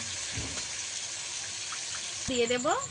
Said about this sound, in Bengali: এর মধ্যে জল দিয়ে দেবো।